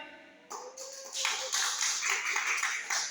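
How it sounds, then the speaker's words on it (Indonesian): Audience clapping at a seminar on a higher-education model for Tana Ai: a voice speaks briefly, then a dense burst of many hands clapping swells and continues steadily to the end. "tepuk tangan untuk semangatnya Pak Wakil dan kita sekalian"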